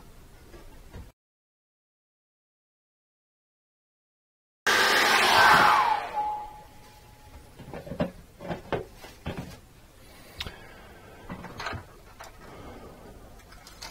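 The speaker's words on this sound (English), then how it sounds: "Now we're going to dry that bit as well now." A hair dryer blows on a painting during a mountain landscape painting lesson. It starts abruptly after a stretch of silence as a loud, close whoosh that fades within a couple of seconds, followed by small clicks and taps.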